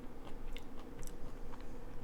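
Close, steady chewing and biting on food as someone eats, soft crunchy mouth sounds repeating throughout with no talking.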